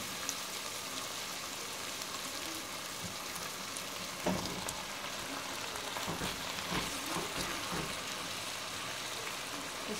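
Chopped tomato goes into a pan with chicken and chickpeas, bringing a steady close hiss of frying and sizzling with small crackling bursts around the middle, no talk.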